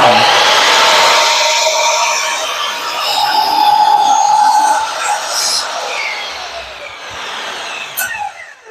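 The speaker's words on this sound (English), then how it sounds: "let's see if it'll dual bevel cut on this" A sliding compound miter saw making a dual bevel cut through wood: a loud, continuous whining motor roar with a grinding cutting tone that fades toward the end, then a few small clatters.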